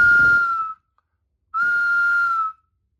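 A handmade duct whistle blown twice, each time a clean, steady, sustained tone of about a second, loud and close, separated by a short silence.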